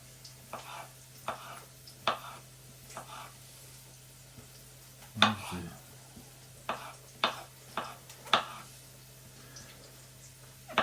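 Sliced onions in a pan, faint background frying under a low steady hum, broken by a series of sharp utensil clinks and scrapes as they are stirred.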